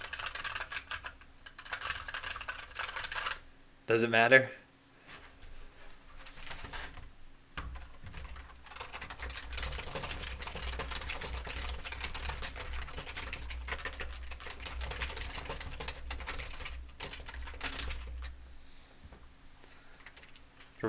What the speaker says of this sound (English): do you like the sound of typing on that keyboard, or do you like the sound of typing on this keyboard?